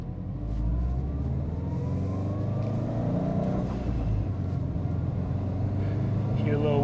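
A turbocharged Subaru Impreza GD STi accelerates from inside the car, its engine droning and building steadily in pitch and loudness, with a faint wastegate flutter near the end and a voice speaking over it.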